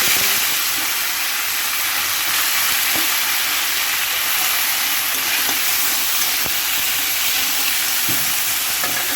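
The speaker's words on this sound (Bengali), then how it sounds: "পেঁয়াজগুলো আমি লাল লাল করে ভেজে নেব" Chopped onions frying in hot oil with dried red chillies and bay leaves, a dense, loud, even hiss that runs steadily throughout with a few faint clicks.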